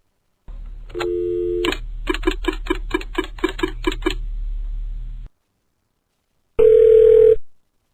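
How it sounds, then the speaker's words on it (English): A telephone dials out a call: a long tone, then a quick run of about ten evenly spaced dialing beeps, a pause, and a loud ringback tone, with no one talking. "let me just call up my close personal friend Mariah, and we'll be all set to go."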